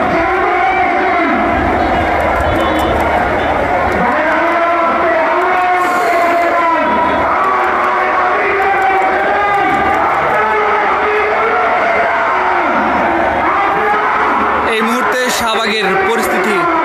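A huge crowd gathers at student leader Osman Hadi's funeral, where a loud mass of voices chants and wails in rising and falling tones over a steady roar for the whole stretch.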